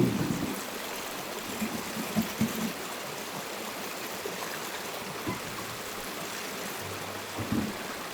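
Water flows steadily in a Scottish stream near a remote abandoned village, a continuous close rushing and trickling wash with no voices.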